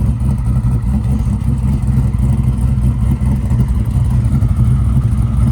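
A 1979 Chevrolet Camaro Z28 with a GM crate 5.3 LS V8 and dual exhaust idles with a deep, loud, steady rumble and a slight lope, close by and alone.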